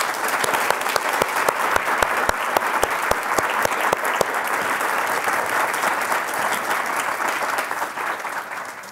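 Audience applause welcoming Paul Farmer, physician and Partners in Health co-founder, to the stage: a dense, steady clatter of many hands close by, with sharp individual claps standing out early, tapering slightly toward the end and with no talk over it.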